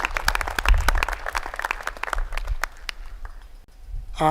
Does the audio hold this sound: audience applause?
yes